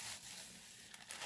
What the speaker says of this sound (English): OG Easter grass, only it's made out of paper.